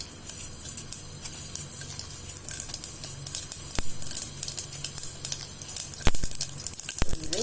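Fenugreek and mustard seeds sizzle in hot oil for a puliyodharai tempering, a soft crackle with scattered sharp pops that grow sharper near the end.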